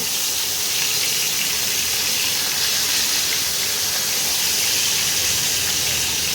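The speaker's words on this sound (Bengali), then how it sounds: "এবারে মাছগুলোকে আস্তে আস্তে ভেজে নিচ্ছি" Fish fry in a pan with a steady, loud, continuous sizzle and hiss that stays even throughout.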